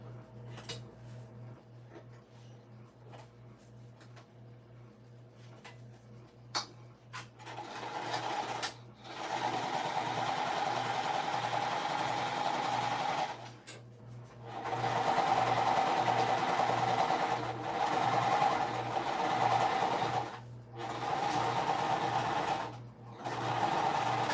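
A domestic sewing machine stitches the bottom seam of a crossbody bag in steady, fast bursts with brief pauses between runs, close and fairly loud, the motor's hum running under the needle's rapid tapping.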